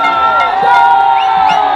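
Crowd cheering and applauding for the women's winners at the Traditour 2024 race awards, a steady dense roar with scattered whoops and shouts rising above it, close and loud throughout.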